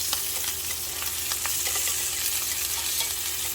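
Scallops sear in a hot pan with a steady, close sizzle and crackle that holds throughout, with no talking.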